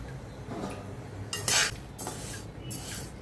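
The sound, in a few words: jowar (sorghum) being roasted in a hot kadhai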